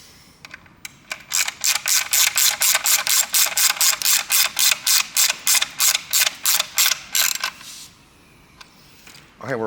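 A ratchet tightens transmission pan bolts on a Dodge 8HP70/90 gearbox: about twenty sharp, evenly spaced clicking strokes, close and loud, then a pause before a brief final sound.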